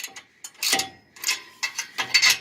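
Ratchet tightening exhaust bolts on a 1988 Toyota pickup with a 22R engine, a close series of sharp clicking bursts in short uneven strokes with brief pauses between, no talking.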